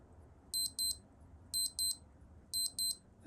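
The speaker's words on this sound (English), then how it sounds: "We've got an alarm." Casio TSR-100 alarm beeping alone in three bursts, each a pair of short, high, bright electronic beeps, repeating about once a second over quiet background hiss.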